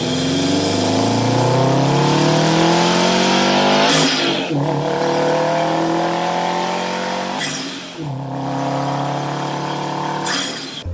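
A Subaru WRX STI engine revs hard, climbing in pitch through three sweeping pulls, with short drops between them as it shifts or lifts off. The sound is loud and close, with no voices.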